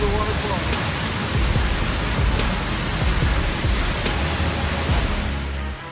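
A waterfall roars as a steady, dense broadband rush that is loud and continuous throughout, with no voices over it.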